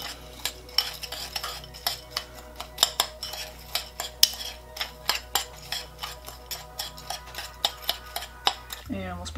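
Apple cinnamon muffin topping is mixed in a bowl with a utensil, making a brisk, regular rhythm of scraping clinks against the bowl, near and clear, with no voices.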